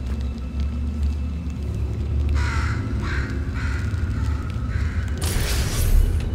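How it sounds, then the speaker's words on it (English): A crow cawing in the Portal 2 video game, several harsh caws in a row over a low mechanical rumble, followed by a broader noisy burst near the end. "What up, bird?"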